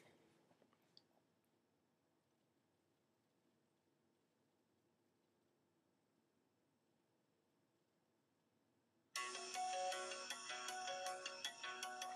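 After a long near-silent stretch, a notification from a homemade Pandora app bursts in loudly and plays as a bright, repeating ringtone-like melody with regular sharp pulses. It continues to the end with no talk.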